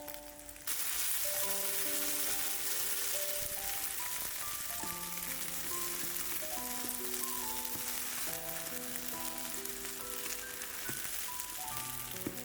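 Small loofah pancakes pan-frying until golden and crisp, giving a steady, close sizzle that runs the whole time beneath soft background music.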